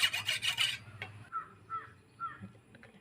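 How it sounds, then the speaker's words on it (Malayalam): A blunt kitchen knife being sharpened before cutting fish gives several quick, close scraping strokes at the start, then stops while crows caw a few times in the background. "കട്ടിക്ക് തീരെ മൂർച്ചം കുറവാണ് അതും നമുക്കൊന്ന് മൂച്ചാക്കി എടുക്കാം"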